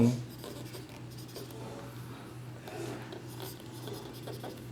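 Pen writing on paper while working a math problem for a Class 10 linear equations lesson, a soft continuous scratching with a steady low hum underneath, close and fairly quiet.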